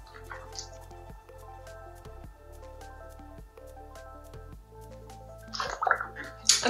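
Soapy painted fabric is scrubbed and rinsed in water, with soft drips and squishing over a steady background hum, growing to louder sloshing splashes at the end.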